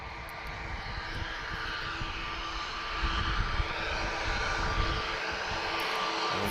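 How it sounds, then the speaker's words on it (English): A TAP Airbus A321neo jet departing Lisbon, a distant steady engine roar with a faint whine that grows a little louder midway, with no talk. "TP1479 off to Bissau. This is an A321 Neo."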